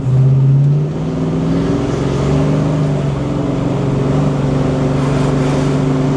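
A restored 1970 Chevelle engine rumbles loudly at close range, a steady deep drone with a slight pitch drop after the first second as the car spins its tires.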